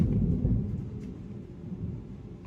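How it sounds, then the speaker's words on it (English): Thunder rumbles low and continuous during a storm, a deep rolling sound with faint rain texture, moderately distant and steady for the whole stretch. "I don't know if y'all hear that, y'all, but it is storming. There's thundering."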